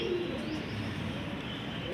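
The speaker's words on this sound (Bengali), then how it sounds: "দেখেন সুমন ভাই, এই যে দেখেন আপনার কবুতরগুলো একদম সম্পূর্ণ সুস্থ" Rajshahi Giribaz pigeons coo softly and continuously at close range against a steady background hum, with no speech.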